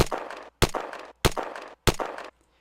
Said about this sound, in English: we're going to take a look at the first gunshots group, which is just one single gunshot file.